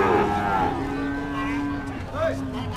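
A young heifer calf, three to four months old, moos with a drawn-out, wavering call at a cattle market, close and loud, with people talking around it and the noise of the crowd behind.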